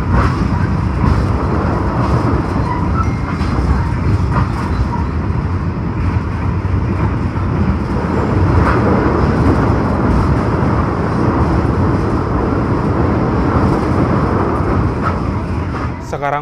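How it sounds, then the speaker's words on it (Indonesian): The Arjuno executive train runs between Surabaya and Blitar in East Java, heard from inside as a constant loud rumble of wheels and carriage noise with faint rhythmic clicks, unbroken throughout. "perjalanan kereta Arjuna yang saya naiki telah tiba di stasiun Bangil"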